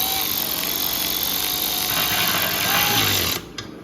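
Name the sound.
power tool tightening oil pan bolts on a car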